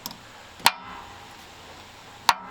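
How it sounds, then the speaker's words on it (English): Hammer blows on metal while working on an old Ford F-250 abandoned for 21 years: two sharp, ringing metallic strikes about a second and a half apart, close and loud, over a faint background hiss. "Maybe if I smash another hammer on top of it, that'd be better"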